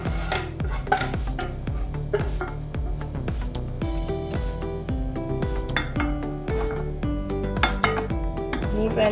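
Cooked paneer masala is scooped out of a pan into another pot, with repeated metallic clinks and scrapes of a spoon against cookware in a quick, uneven rhythm, close by.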